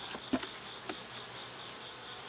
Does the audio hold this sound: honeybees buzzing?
yes